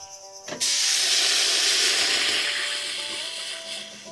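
Onions sautéing in a pan without cooking oil: after a brief quiet moment, a loud, steady sizzling hiss starts abruptly and keeps going, easing slightly toward the end.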